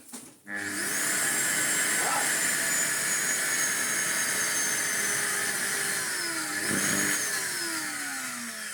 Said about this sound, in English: the motor is bubbly burny